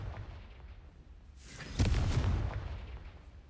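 A Confringo spell blast in Hogwarts Legacy: a single loud, deep booming explosion erupts partway through, rumbling and fading over the following second or so above a low background hum.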